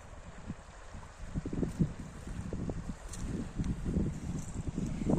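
Light breeze over a bay on the Canadian Atlantic coast, with a small stream trickling into the ocean, a continuous low rumbling wash of moving water and wind, fairly close, and nobody speaking.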